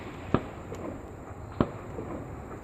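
Two sharp reports from an H&R 12 gauge Pardner pump shotgun firing Federal target loads, distant and fairly faint with a pause of over a second between the shots.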